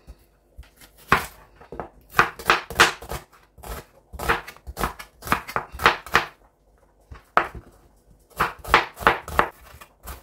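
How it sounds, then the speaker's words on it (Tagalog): Rapid knife chopping of onion on a board, cutting it finely, with a steady run of sharp close taps arriving in bursts separated by brief pauses. "kailangan yung sibuyas natin ay pino rin ang pagkahiwa"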